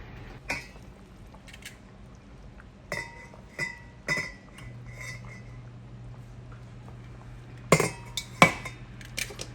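Metal tongs clink against a pot of simmering Southern-style brown beans while a ham hock is lifted out, sharp scattered taps and scrapes over a low steady hum, with no talking.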